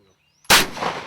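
A single loud gunshot at a wild turkey during a hunt cracks out suddenly after near silence. A long rolling outdoor echo follows.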